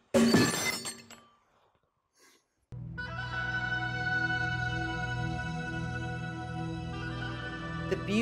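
Stone being worked by hand, Kilkenny blue-grey limestone or Carrara marble, gives a sharp crashing burst, then a short silence, then a sustained, bright, resonant ringing tone that hums steadily for several seconds.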